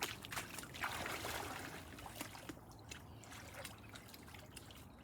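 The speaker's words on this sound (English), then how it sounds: "all I'm going to do is add a bit of lake water to that" Lake water poured into a mix trickles and dribbles softly and nearby, a faint, steady liquid patter with no voices.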